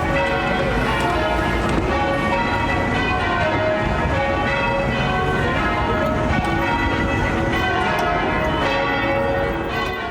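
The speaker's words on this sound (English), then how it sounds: "we got there when the church bells were going off" Church bells in Ireland peal continuously and loudly throughout, a dense overlapping ringing with rich sustained tones and no talking.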